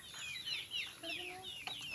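Chickens cluck and squawk in a busy chorus, several birds close by calling over one another with steady background noise.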